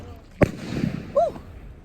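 One sharp New Year firework bang goes off at mid distance, followed by a short faint rumble and a brief rising and falling vocal sound.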